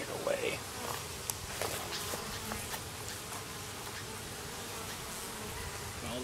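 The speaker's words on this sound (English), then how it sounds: "All the bees are sitting there looking up at me" Honeybees hum in a steady, soft drone from an opened hive with foundationless frames, close but low in level, with faint handling clicks and a person speaking over it.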